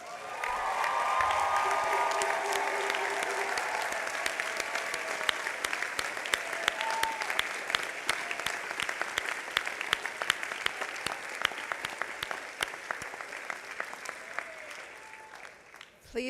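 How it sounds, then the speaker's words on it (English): Sustained applause from a large crowd at a college commencement ceremony, steady clapping that continues for many seconds before tapering off at the end. "give them a round of applause."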